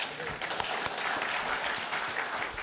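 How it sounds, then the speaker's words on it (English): A conference audience at a tech session claps on request, a continuous dense patter of many hands heard from a distance, moderately faint and steady for a few seconds. "Can everyone just clap for a moment?"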